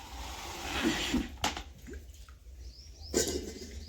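Water rushes and hisses into a bucket, with a couple of sharp clunks of the container in between.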